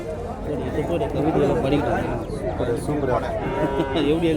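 Cattle moo repeatedly at the Matrapalli cattle market, their calls rising over a constant bed of crowd chatter and people talking nearby.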